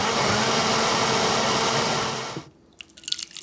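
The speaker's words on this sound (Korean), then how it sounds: "믹서기에 끓여놓은 콜라비를 모두 담고 곱게 갈아주세요." A blender grinding cooked kohlrabi whirs loudly and steadily for a couple of seconds, then cuts off abruptly, leaving a few faint clinks and drips.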